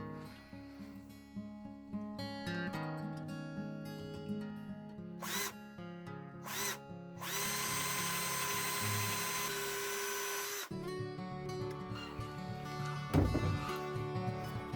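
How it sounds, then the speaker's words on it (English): A power drill boring holes into wood, with short whirring bursts, then one long sustained high-pitched grind, then further intermittent drill sounds, close and loud with no talk. "now I need to drill holes into the wood so I can pull screws through into the handle"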